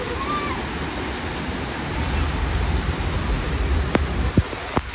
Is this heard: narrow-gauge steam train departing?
no